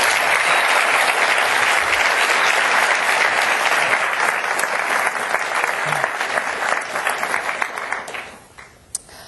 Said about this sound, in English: let's all give Doug a big round of applause